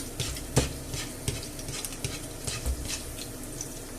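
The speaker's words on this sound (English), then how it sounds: "So this is how I fry my egg." Egg frying in a pan for a breakfast sandwich, with a soft, steady sizzle broken by scattered scrapes and clinks of a utensil against the pan, close and fairly quiet.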